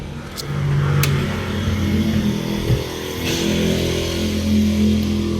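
A hot Proton Saga LMST engine, one that often refuses to start when warm, runs steadily with a continuous low hum and slight rises in revs, close by, with no talking.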